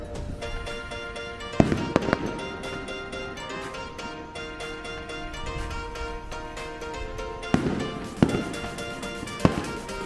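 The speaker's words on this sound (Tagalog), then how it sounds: "May firework display." A fireworks display at the Enchanted Kingdom theme park, watched from a rooftop deck, crackles with distant pops and several sharp, louder bursts over a steady background.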